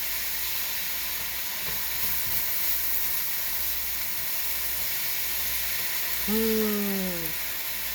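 Bottled ragu meat sauce bubbles and sizzles softly in a pan while being stirred, a steady faint hiss with a brief tonal squeak near the end and no talk.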